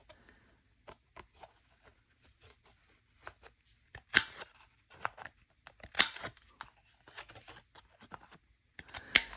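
Scissors snip around the edges of a painted watercolour paper bookmark in a string of close, crisp cuts, with paper rustling between them and no talking.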